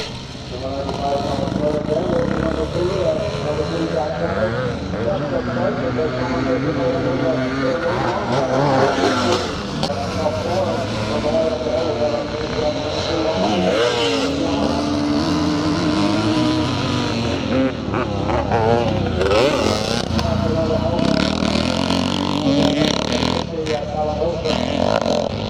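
A Yamaha YZ motorcycle races a lap of a scramble track at a classic charity event in Northern Ireland, its engine revving and changing pitch under a continuous commentator's voice.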